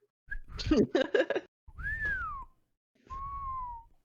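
A voice mimics a robot's chirps: a quick run of warbling, beeping whistles, then two longer sliding whistle tones with pauses between.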